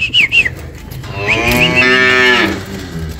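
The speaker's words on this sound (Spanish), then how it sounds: "Así es, amigos, aquí están las vaquitas." Cattle being moved into a corral on a drive in Jalisco, one loud, close, drawn-out moo following a few sharp whistles, with no talk over it.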